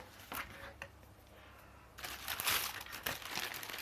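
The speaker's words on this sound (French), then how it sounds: "je vais vous déballer ça un peu" Packaging crinkles and rustles up close while Converse x Golf le Fleur sneakers are unboxed, in soft scattered handling noises that grow louder and busier partway through.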